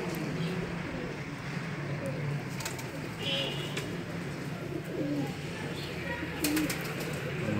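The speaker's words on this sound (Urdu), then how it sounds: "باقی تر کبوتر رہ گئے ہیں وہ بھی آئے ہیں سامنے" Soft pigeon coos repeat now and then against an outdoor rooftop background in Wazirabad, with some quiet talk and a few scattered clicks.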